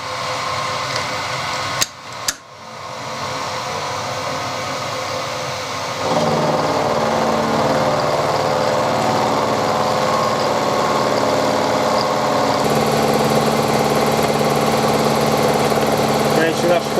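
A Banggood face mill takes a 40 thou cut into metal, producing a loud, continuous machining drone that steps up in intensity partway through and holds steady.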